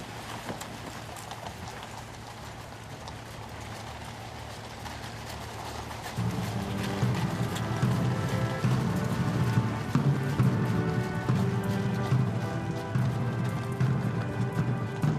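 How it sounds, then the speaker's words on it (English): Horse-drawn carriages in the Trooping the Colour procession for royal guests clip-clop on the road, a steady patter of hooves that swells and grows louder halfway through, with a faint voice at times. "carriage procession underway. 3 carriages with the royal guests going to the parade."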